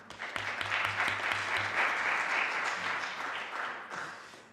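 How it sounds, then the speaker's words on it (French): A conference audience at a talk on mental health and ageing applauds steadily, a dense wash of clapping that swells quickly and holds before gradually thinning out toward the end. "on peut l'applaudir aussi"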